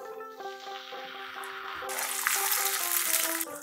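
Tomato paste goes into hot oil with bay leaves, dried red chillies, cloves, cardamom and cinnamon, bursting into a loud, close, continuous sizzle that swells and stays strong to the end.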